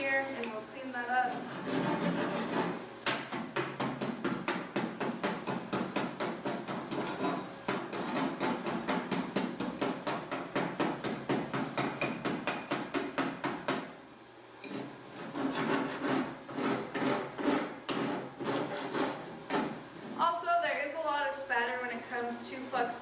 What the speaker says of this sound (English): So you just take your chipping hammer, come through here, and we'll clean that up.